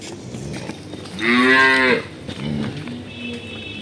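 A dairy cow with her 22-day-old bull calf lets out one loud, close, drawn-out moo lasting under a second, set against a quiet barn background.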